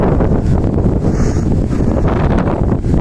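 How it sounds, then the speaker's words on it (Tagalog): Strong wind buffeting the microphone, a constant loud low roar with gusty rumble, no voices. "Sarap ng hangin"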